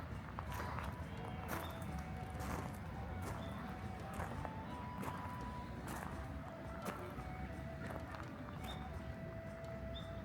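Hooves clip-clop steadily on a hard floor, a horse moving about inside a barn in Mie Prefecture, Japan, amid a dull background rumble and a few faint voices.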